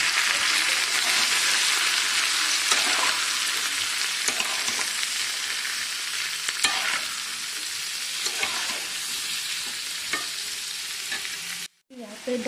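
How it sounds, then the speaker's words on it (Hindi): Fermented fish hits hot oil with panch phoron spices, including fenugreek seeds, and sizzles loudly and continuously, with occasional stirring scrapes, before a sudden brief drop near the end. "तो अभी यहाँ पे फर्मेंटेड फिश डाल देती हूँ"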